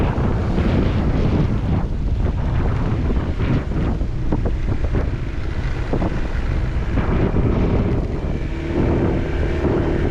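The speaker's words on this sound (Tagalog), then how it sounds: "Grabe guys, ang laki pa rin ng alon." Big waves on the bay at the Tanauan baywalk in Batangas wash toward shore, a steady loud roar of surf heavily mixed with gusting wind buffeting the microphone for the whole stretch.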